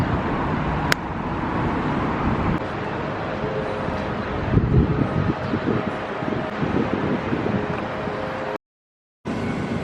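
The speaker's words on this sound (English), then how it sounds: "It is so nice and breezy out here." Steady breezy wind outdoors on a fall morning, a broad rushing roar buffeting the microphone throughout, broken by a brief dropout near the end.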